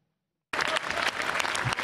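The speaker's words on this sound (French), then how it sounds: "Sous les applaudissements de ses collègues" Fellow deputies applaud in a parliamentary chamber, the dense clapping bursting in suddenly after half a second of silence and holding steady and loud to the end.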